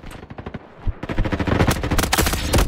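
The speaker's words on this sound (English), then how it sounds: "that guy shot me and then just stopped shooting me" Rapid video game gunfire rattles in fast bursts, sparse shots at first and then building into dense, loud automatic fire close to the player, with no talking.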